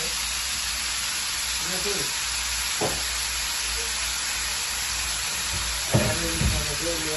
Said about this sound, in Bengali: এখন গিলে ভাজা হচ্ছে আর কি রান্না করার জন্য